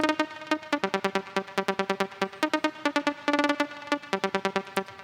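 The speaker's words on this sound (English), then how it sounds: "And then we got a layer from Nexus." A Nexus software synth layer of a melody plays crisp, bright plucked notes in a fast, even staccato pattern, loud and close with no voices over it.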